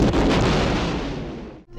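Quantum torpedoes fired from a starship as a film sound effect: a loud, sustained explosive boom and rumble that fades over about a second and a half before cutting off abruptly.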